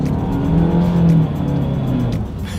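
A 2020 Nissan Altima sedan with its 2.5 liter naturally aspirated engine pulls hard under acceleration, a steady loud engine drone with rising tone, road and tire noise filling the cabin throughout.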